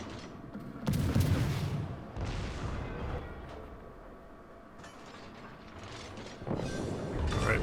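Booming naval gun salvos from a French tier-2 destroyer, the Enseigne Gabolde, in a World of Warships battle, with heavy low rumbling blasts near the start and again toward the end, fading between.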